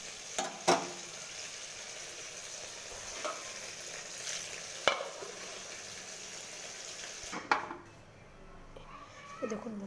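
Rui fish cooks with broccoli in a hot pan, giving a continuous sizzle with a few sharp clatters from utensils and pan, and a brief lull near the end.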